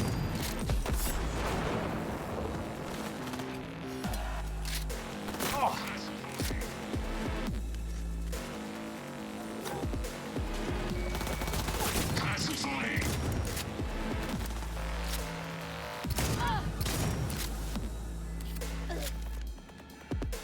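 Shotgun blasts and other combat noise in Cyberpunk 2077: Phantom Liberty, dense and loud, with repeated sharp bursts and crashes spread across the clip beneath steady talking.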